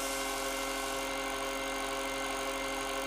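A Bafang BBS02 mid-drive e-bike motor on a 45-volt setup with a 60A Castle Creations controller runs at full throttle, a steady, loud electric whine with a constant high buzz and no variation in pitch.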